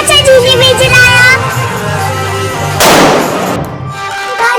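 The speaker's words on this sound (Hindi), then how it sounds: "मेरी दीदी ने बुलेट बम जलाया और फिर चाचा जी ने भी जलाया।" A bullet bomb firecracker set off at home during Chhath Puja celebrations bursts with a single loud, sharp bang partway through, over continuous background music and chatter.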